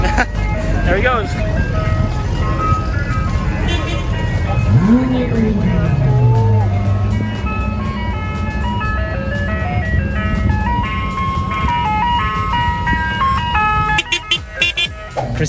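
An ice cream truck drives off along a street in the United States, its tinkling tune continuing steadily over road noise while people talk nearby, with a sliding whoop sounding partway through.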